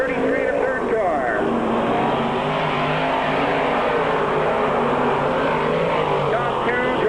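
Race car engines drone and whine around a racetrack in Middletown, NY, at a 1995 event, a loud continuous roar with rising and falling pitch as cars pass, heard under an announcer's steady commentary.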